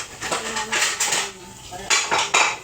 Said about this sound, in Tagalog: kapag nagluluto kasi naghuhugas ako ng mga pala